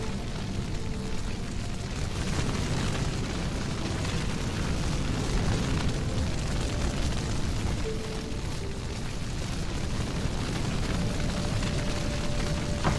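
Fiery explosion in The Witcher 3: Hearts of Stone, a sustained low rumbling roar with crackling bursts that fills the whole stretch without letup.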